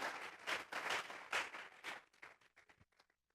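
A church congregation applauds during a service, a dense burst of clapping that rises in waves and then thins into scattered claps before fading out.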